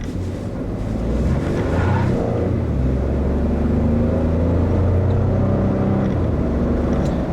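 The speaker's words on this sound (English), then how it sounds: "the first thing you'll notice is how incredibly refined, quiet, and smooth this twin-turbo V6 is" A 2014 Ford F-150 XLT EcoBoost twin-turbo V6 drones steadily throughout, smooth and even with a deep rumble and some road or wind noise, no talking.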